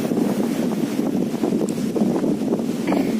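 Strong outdoor wind roars and buffets the microphone in a steady, loud rush with small gust swells, with no voices.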